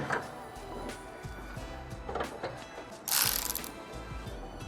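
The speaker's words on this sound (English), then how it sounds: "Yes, Dave, it's a cordless ratchet." Cordless ratchet turning a bolt while a carbon hood is fitted to a GR Corolla, with quiet mechanical clicking and whirring in short bursts and a sharper burst near the end.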